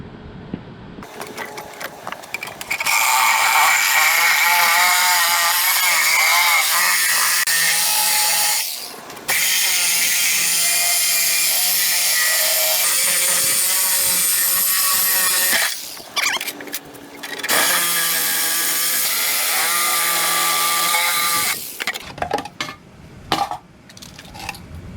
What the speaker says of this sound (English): take the Sawzall and get the inner layer since we already cut the outer